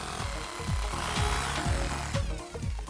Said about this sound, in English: Now all we got to do is start drilling with this guy.